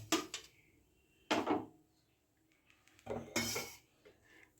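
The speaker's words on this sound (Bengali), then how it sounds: "আমার পরোটাটা ভাজা হয়ে গেছে আমি তুলে নিচ্ছি" A fried Bengali-style stuffed cauliflower paratha being lifted from the pan, heard as three sharp metallic scrapes and clinks of a spatula against the pan, with quiet gaps between them.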